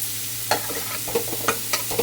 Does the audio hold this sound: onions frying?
yes